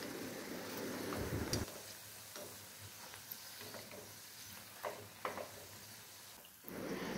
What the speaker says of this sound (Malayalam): ലോ ഫ്ലെയിമിലിട്ട് വറുത്തെടുക്കണം കേട്ടോ